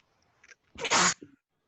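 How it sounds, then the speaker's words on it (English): A single sharp human sneeze, preceded by a faint intake, bursts out near and fairly loud, followed by a short soft vocal trailing sound, in an otherwise quiet room during a maths lesson. "If that's a sneeze."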